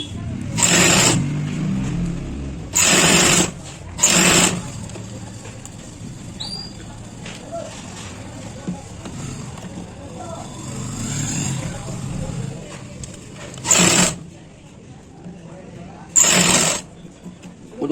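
Short bursts of a sewing machine stitching trouser fabric, five brief rattling runs spaced across a quiet stretch, near and loud, with a person talking between them.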